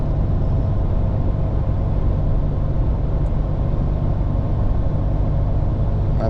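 A 2020 Ram 1500 EcoDiesel pickup towing a Kubota on the highway gives off a steady low diesel drone and road rumble, loud and constant throughout with no break.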